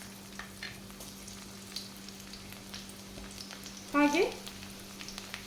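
Mustard seeds and crushed garlic frying in hot coconut oil give a steady, crackling sizzle, with a brief louder burst of popping midway, under a faint voice.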